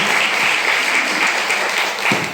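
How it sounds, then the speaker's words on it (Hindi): Steady, full applause from a seated audience at a product seminar, continuous dense clapping without break, fairly loud and close. "जोरदार ताली होना चाहिए"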